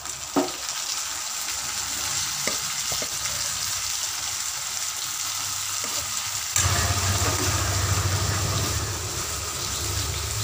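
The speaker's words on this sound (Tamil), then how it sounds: "இதே இந்த தாளிதத்தோடு சேர்த்துட்டு நல்லா ஒரு 5 நிமிஷத்துக்கு நல்லா ஃப்ரை பண்ணி எடுத்துக்கலாம்." Broad bean dal kootu frying with its tempering in a pan, a steady close sizzle that grows louder after the boiled kootu is added partway through, with a few faint stirring clinks.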